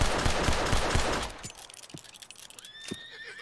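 A Norfolk Roadster horse in Red Dead Redemption 2 lets out an agitated whinny near the end, a rising, wavering call. Before it come loud, rapid clattering bursts of gunfire-like impacts and hoof thuds.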